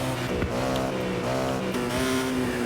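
A Honda N600 engine in the racing game Forza Horizon 6 drones steadily, a buzzing, harmonic-rich tone that holds nearly constant pitch with slight rises, loud and close, with no talk.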